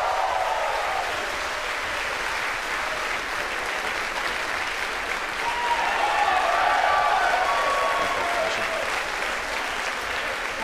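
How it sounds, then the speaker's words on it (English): A crowd applauds in a SpaceX launch control room after stage separation is confirmed, a steady wash of clapping heard somewhat distant and muffled, swelling slightly partway through. "as you can hear by the applause"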